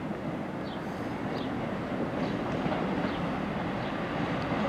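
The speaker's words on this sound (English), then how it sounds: "Just coming in now is the 1524 ARRIVA Trains Wales Service to" An Arriva Trains Wales service pulling into Holyhead station, a low steady rumble of the diesel unit with faint high squeals from the rails, moderately distant and continuous.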